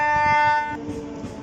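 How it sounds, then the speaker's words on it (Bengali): A train horn sounds loudly and briefly as a local train arrives at Khirai station, then gives way to a lower steady tone over a soft rolling rumble. "খিরাই স্টেশনে ট্রেন ঢুকছে"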